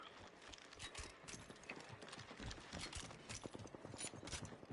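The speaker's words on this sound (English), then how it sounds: "I hear footsteps." Footsteps in the battle royale shooter Apex Legends: quick, sharp repeated steps in a steady running rhythm, fairly close and clear, with no speech over them.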